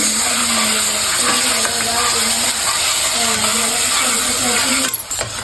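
Boiling water poured into maida halwa cooking in a pan gives a loud, continuous sizzling hiss with a faint wavering tone underneath, ending in a short crackle.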